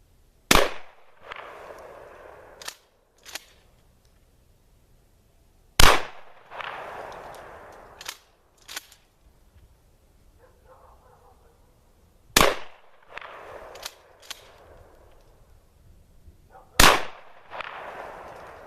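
Four loud close shotgun blasts from a Remington 870, evenly spaced several seconds apart, each a sharp crack with a short echoing tail and quieter clacks of the pump action between shots.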